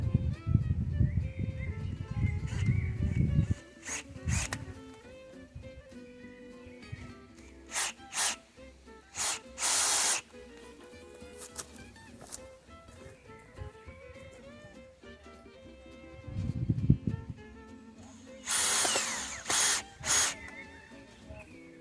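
Power drill driving wood screws outdoors, with low whirring bursts at the start and again midway, mixed with scattered clicks and rubbing handling noises, close but moderate in level.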